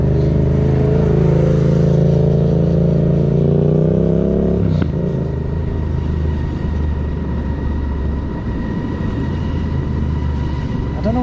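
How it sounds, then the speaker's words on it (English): A Yamaha motorcycle with a loud aftermarket-style exhaust roars past on a cold winter road, a close, strong engine drone for several seconds that cuts off sharply and fades into lower rumbling road noise. "I don't know what that bike that was. It was a Yamaha."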